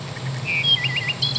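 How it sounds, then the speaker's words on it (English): A Wild Republic Audubon plush wood thrush plays its recorded song, a quick string of clear, fluting whistles and trills, moderately loud over a faint constant hum, with no voices. "wood thrush"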